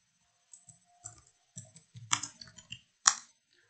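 Computer keyboard keystrokes, a handful of sharp clicks typed in a short, uneven burst, close and clear against silence, with one final harder tap like a press of the enter key.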